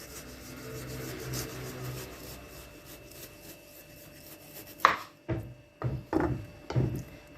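Knife strokes chop meat for homemade İskender doner on a board, a run of five or six sharp, distinct cuts in the second half after a stretch of softer rubbing and scraping, heard up close.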